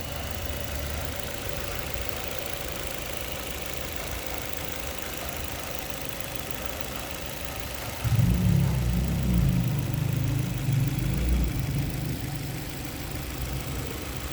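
Petrol engine of a 2020 Maruti Vitara Brezza idling steadily, a low even hum that grows louder and rougher partway through, as if revved slightly, with no talking.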